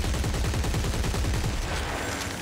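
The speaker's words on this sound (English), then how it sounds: "Okay, I have to shoot you." Rapid automatic gunfire from the video game Dead Space 3, a dense run of loud, closely spaced shots through most of the stretch, with no talking over it.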